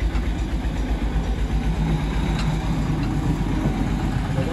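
A modified tractor's engine running steadily, loud and continuous with a low droning rumble and no pauses.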